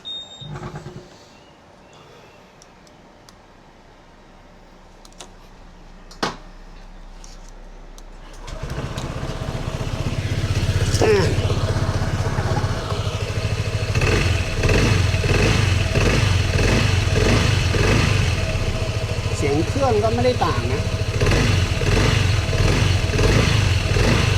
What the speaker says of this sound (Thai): ลองฟังเสียงเครื่องกันหน่อยดีกว่า